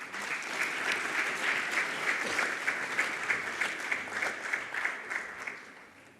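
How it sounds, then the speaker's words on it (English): Audience applause at a public-private business forum in Namibia, a steady dense round of clapping from a hall crowd, loud at first and tapering off near the end, with no talk over it. "Please give him another round of applause."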